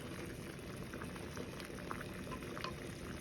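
Thick ogi porridge bubbling at a slow boil over a low flame, a steady close-up burble of popping bubbles with no talking.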